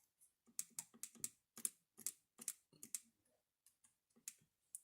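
Number keys tapped on a calculator keypad, a quick run of light close clicks in an uneven rhythm, faint and alone.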